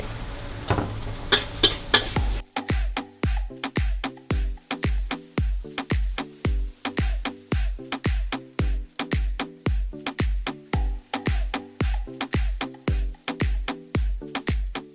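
Fried rice is stir-fried old-style over a charcoal stove at Jae Muay's street stall in Yaowarat, Bangkok, with a metal spatula striking the wok in a fast, steady rhythm over a constant sizzle, close up, with no talking.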